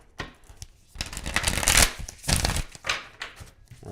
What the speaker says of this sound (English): Let me move some of these cards first.